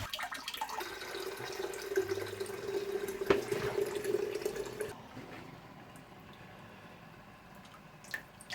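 Boiling water is poured in a kitchen as a steady close stream for about five seconds, then fades to quiet room noise with a faint tap near the end.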